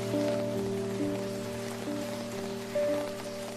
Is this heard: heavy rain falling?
yes